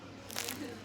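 A flaky, crisp hotel-breakfast croissant crunching as it is bitten, one brief close crackly burst.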